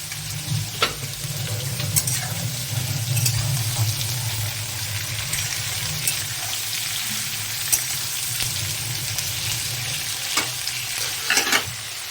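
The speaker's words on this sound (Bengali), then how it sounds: "এবার ভালো করে ভেজে নেব" Ridge gourd, potatoes and onion fry in a pan for a poppy-seed dish, giving a steady, close sizzle with occasional stirring scrapes and clinks throughout, with no talking.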